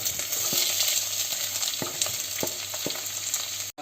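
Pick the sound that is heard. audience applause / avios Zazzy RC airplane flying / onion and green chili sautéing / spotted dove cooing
onion and green chili sautéing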